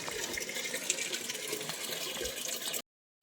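Tap water pours steadily into a vessel at a village home, a continuous close gushing hiss that runs for nearly three seconds before cutting off abruptly.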